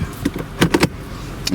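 Power windows on a Mercedes-Benz SL 500 Roadster give a short series of close mechanical clicks and brief motor whirs inside the car, with nobody speaking.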